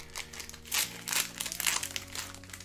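Crinkly plastic foil wrapper of a Pokémon trading card pack being torn open and handled up close, a steady run of crackling and crumpling with no talk.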